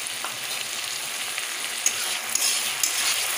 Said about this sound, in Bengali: ভালো ভাবে কষি দেওয়া।